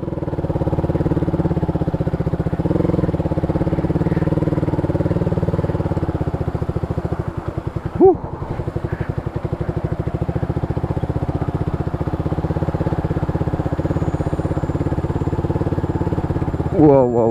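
A motorcycle engine labours close and loud as the bike rides over rocky ground near water and bamboo, holding a steady droning note with a brief dip and surge midway.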